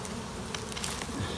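Swarm of honey bees droning at the front of a hive, a thick unbroken buzzing held close and even throughout, with small surges as bees fly past.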